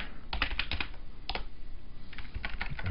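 Quick bursts of typing on a computer keyboard, clustered clicky keystrokes with brief pauses between, close up and without talk.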